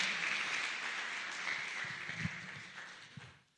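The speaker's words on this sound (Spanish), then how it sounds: "Un aplauso," An audience at a Christian leaders' congress applauds, a faint, quiet patter of clapping that thins and fades away toward the end.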